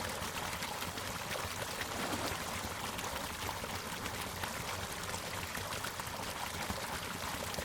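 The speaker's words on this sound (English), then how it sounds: "The water from the hatchery drains downhill into the fingerling pens." Water from a trout hatchery draining downhill into fingerling pens, a steady, close, broadband rush of pouring and streaming flow that holds constant throughout with no voices.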